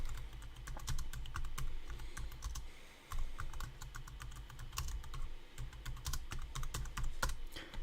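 Rapid typing on a computer keyboard, a close, steady patter of key clicks with brief pauses, no talking over it.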